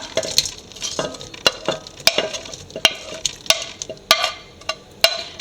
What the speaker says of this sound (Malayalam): കുറച്ച് എണ്ണ ഒഴിച്ച് നമുക്ക് ആദ്യം സവോള ഇട്ട് കൊടുക്കാം